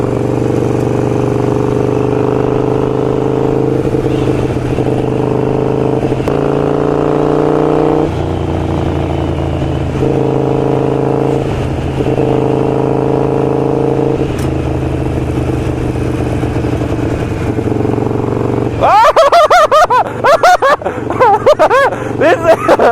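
A Harley Sportster with Vance and Hines Grenades exhaust rumbles steadily while being ridden, its engine note stepping through gear changes, loud and close, before wind buffeting and voices take over near the end.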